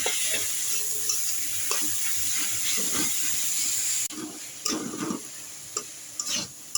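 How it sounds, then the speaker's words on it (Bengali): Stem greens being stir-fried with onion and garlic in a pan produce a steady sizzle, then scraping stirring strokes and clatters of the spatula toward the end. "এখন আমি কিছুক্ষণ নেড়ে চেড়ে এটাকে ভাজা ভাজা করে নেব"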